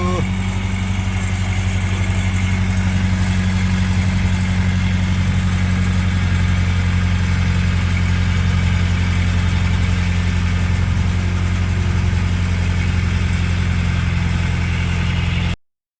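A loaded truck engine idles steadily and loudly for about fifteen seconds with a constant low drone, then cuts off abruptly.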